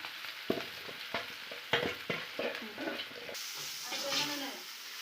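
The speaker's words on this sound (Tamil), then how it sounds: "இப்போ வந்து எல்லா ஈரலும் சேர்த்தியாச்சுங்க நான் வந்து ஒன்றா மிக்ஸ் பண்ணி விட்டுறேன்" Liver frying and being stirred in a pan, a steady close sizzle broken by repeated scraping strokes of a spoon against the pan.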